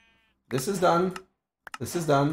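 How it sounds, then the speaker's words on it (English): Two short bleats from a sheep in a block-building video game, each following a brief pause, with a faint soft click at the start and a person talking over both. "And that's my sheep."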